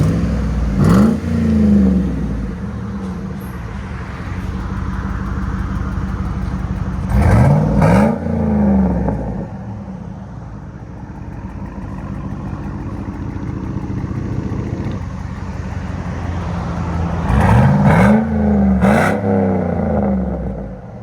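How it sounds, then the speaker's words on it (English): A 2007 Chevy Tahoe with a 5.3L V8 and Flowmaster Outlaw exhaust idles with a deep rumble, then is revved three times, each blip sharp and loud before settling back to idle. "Sounds good. FLOWMASTER Outlaw."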